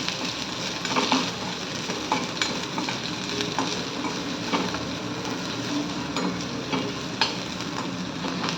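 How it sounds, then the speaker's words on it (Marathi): Finely sliced onion frying in a pan, with a steady broadband sizzle and repeated stirring scrapes and clicks at irregular intervals, close and fairly loud, with no talking. "आता आपण त्यामध्ये कांदा घालूया।"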